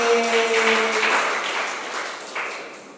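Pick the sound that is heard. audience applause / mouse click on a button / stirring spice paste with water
audience applause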